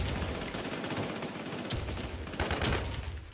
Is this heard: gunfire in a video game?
yes